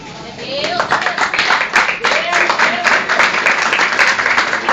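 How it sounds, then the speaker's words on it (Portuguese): A church congregation claps in applause, a steady dense patter of many hands filling the space while a voice speaks over it throughout. "Aplauda Jesus"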